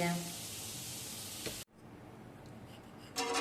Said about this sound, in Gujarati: આ જ રીતે આપણે દાળિયા કાજુ બદામ તેને તળી લેશું